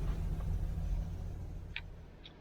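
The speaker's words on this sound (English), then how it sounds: "idling really steady at 800 RPM." Chevy 350 V8 idling steadily at about 800 RPM, a faint low rumble with a soft even pulse and a couple of brief higher ticks near the end.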